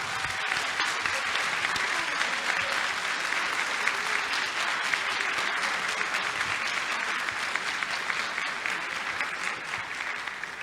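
An audience gives a round of applause for a woman councillor at an event, steady continuous clapping from many hands throughout, with faint voices underneath.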